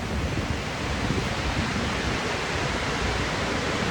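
Ocean waves surging high along a shoreline, heard as a steady, loud broadband roar of surf with no clear individual breaks, filling the whole clip without any voices.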